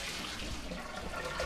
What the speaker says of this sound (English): So our noodles are cooked, and I'm just gonna drain these.